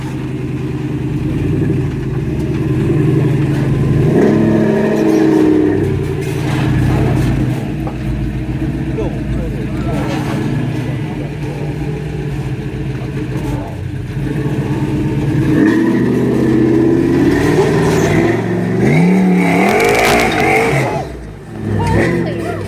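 Off-road rigs crawl over a rough obstacle, their engines revving and surging repeatedly, rising and falling in pitch, loud and close.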